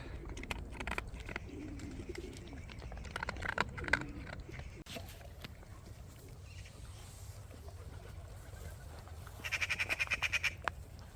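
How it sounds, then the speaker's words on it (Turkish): Pigeons and other birds coo and squawk close by in a forest setting, with rustling movement throughout and a burst of quick chirping calls near the end. "Kuşlarımız her yerde peşimizde."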